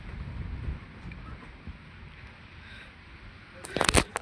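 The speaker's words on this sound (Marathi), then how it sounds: "पण वादळ भरपूर आहे जोराचा" Strong stormy wind at a rural farmstead during a storm, a steady low roar buffeting the microphone throughout, with a sharper louder gust burst near the end.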